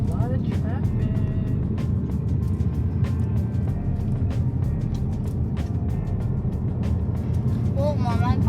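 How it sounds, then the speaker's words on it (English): Heavy road traffic in Atlanta, Georgia: a continuous low rumble of car and truck engines with several vehicles passing close by, heard from nearby as people talk over it. "There's a lot of traffic."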